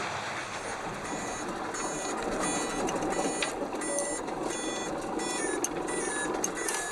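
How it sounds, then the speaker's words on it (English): Repeated warning alarm beeps sound inside a cotton truck's cabin on a rough road in Benin, a steady series of short electronic tones over constant engine and road rumble. "Just having passed by the accident, an alarm starts to ring in Dramane's cabin."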